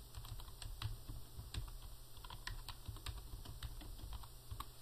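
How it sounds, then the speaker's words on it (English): Steady clicking of computer keyboard keys as a company name is typed, over a constant low hum and background noise, with no one talking. "what I'm going to do is type in the name of a company"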